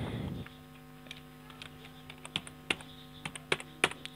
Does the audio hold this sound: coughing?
no